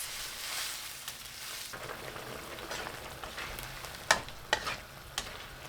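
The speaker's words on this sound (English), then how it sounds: "Add the sweet and sour sauce and stir occasionally for 3 minutes." Sweet and sour sauce with peppers, pineapple and tomatoes bubbles and sizzles softly in a pan as it is stirred, with a few sharper clicks of the utensil against the pan near the end.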